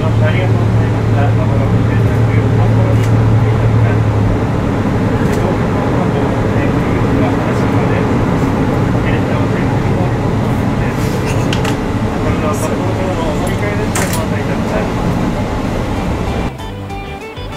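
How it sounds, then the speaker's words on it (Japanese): A JR 261 series 1000 limited express Niseko train runs along an elevated line into central Sapporo, its steady rumble and rolling wheel noise loud and continuous, with faint clicks and a brief drop near the end. "列車はあっという間に札幌市中心部へ入っていきます。"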